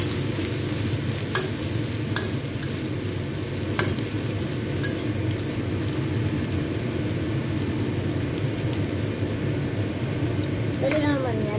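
Dried fish with tofu and peanuts cooking in a pan: a steady, dense sizzle runs throughout, with occasional sharp clicks of utensils against the pan.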